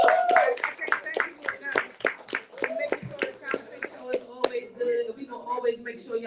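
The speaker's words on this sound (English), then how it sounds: "So let's definitely clap that up." Scattered hand claps from a small crowd ring out unevenly, mixed with voices, cheers and chatter.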